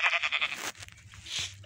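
A Minecraft sheep gives a loud, close, quavering in-game bleat, followed by shorter low bleats and clicks, with no talk.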